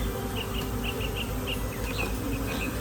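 Honeybees buzz steadily around an open hive during a beekeeping inspection, a dense, continuous hum with individual bees droning close by, no voices.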